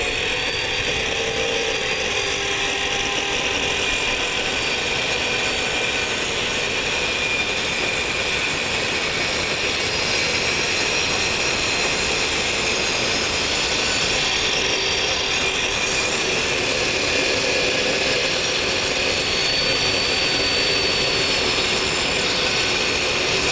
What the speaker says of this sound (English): This is going to go much slower through the saw.